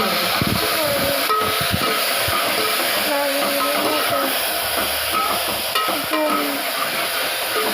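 Washed vegetables for a Karnataka-style avarekalu saaru are tossed into a hot pan and fry with a loud, steady hiss and crackle. Scraping and stirring clatter runs through it, and faint tonal background sounds sit underneath.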